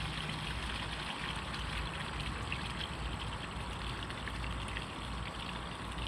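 Water from a sump pump discharge trickles steadily outdoors. The flow is a constant, close wash with no speech.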